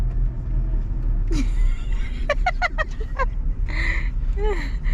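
Low engine rumble and road drone heard from inside a moving car, steady beneath bursts of voices and laughter from passengers.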